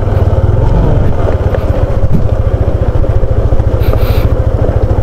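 A motor tricycle drives along a road near a mini dam, its engine chugging loud and close in a fast, even pulsing rhythm that continues throughout, with a brief higher squeak near the end.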